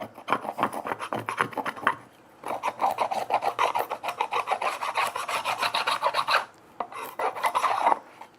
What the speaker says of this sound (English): I'll just scrape all that